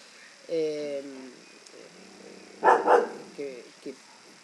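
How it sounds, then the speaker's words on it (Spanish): A neighbour's dog barks and whines a few times at a distance, with a louder pair of barks in the middle, heard through the quiet background of an online class. "Ese es el perro de mi vecino"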